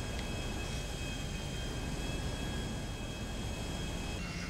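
A steady, broadband engine roar from an airplane landing on a road in a video game, continuous and fairly loud with a faint high whine throughout.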